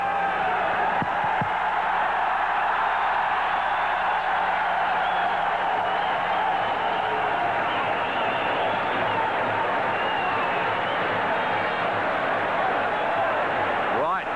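A cricket stadium crowd in Sharjah roars continuously as a batter goes berserk: a dense, loud, unbroken wash of cheering that swells throughout, with a commentator's voice talking over it.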